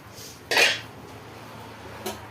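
A metal pot lid clatters sharply once on a cooking pot while cabbage curry simmers, followed by a lighter clink about a second and a half later, in an otherwise quiet kitchen.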